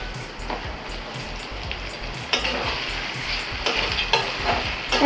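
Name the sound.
stirring chickpeas with grated coconut in a frying pan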